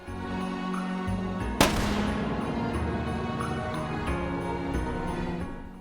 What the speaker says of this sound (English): pulling the trigger on your main hand will fire the rocket